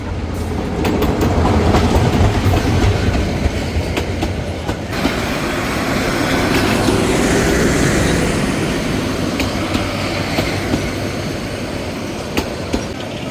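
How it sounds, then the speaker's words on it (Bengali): Intercity Tista Express passenger train rolling into Melandah Bazar station in Bangladesh, a loud, steady rumble of wheels and carriages with rhythmic clickety-clack and occasional sharp rail clanks, continuous throughout with no talk. "মেলান্দ বাজার স্টেশনে আন্তনগর তিস্তা এক্সপ্রেস প্রবেশ করছে"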